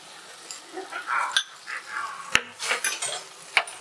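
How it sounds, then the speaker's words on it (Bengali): Salt and sugar stirred into a cashew, sesame and tomato spice paste in a pan: soft scraping and spoon clinks against metal, with a couple of sharp taps, close and moderately loud, no talking. "লবণ আর চিনি আমি মশলার সাথে ভালো করে মিশিয়ে দিলাম।"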